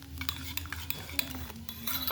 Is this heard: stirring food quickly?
yes